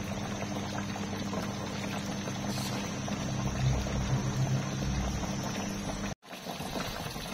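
Sugar water boiling in a pot on the stove, a steady bubbling roil with a hiss, fairly close and continuous, briefly cutting out near the end before resuming.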